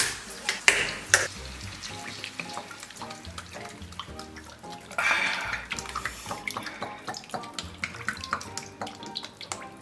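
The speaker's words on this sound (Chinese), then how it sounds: "为了充分激发它的油脂啊，我临时决定改炸了" Pork belly pieces deep-frying in a pot of peanut oil, giving a steady crackling, watery sizzle with sharper pops and bursts throughout, close and fairly loud.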